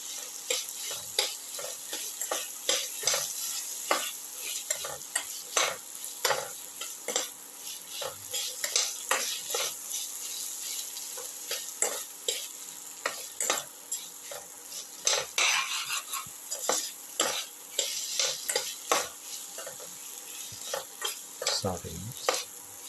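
A ginger, onion and tomato mixture sizzles in a pan while a utensil stirs and scrapes it in frequent sharp clicks, steady frying hiss underneath, close and fairly loud with no talk.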